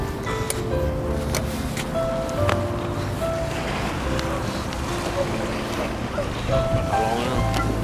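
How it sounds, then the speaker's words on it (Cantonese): Big ocean waves at the seashore, a continuous roaring wash of surf with wind buffeting the microphone, heavy and close throughout, with voices occasionally heard over it. "大浪啊！"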